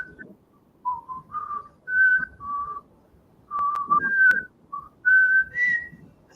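Someone whistles a short melodic tune, clear and close, with distinct pitched notes separated by brief pauses.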